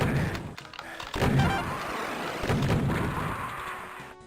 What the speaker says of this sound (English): Ooh, good boomstick shot from Nexus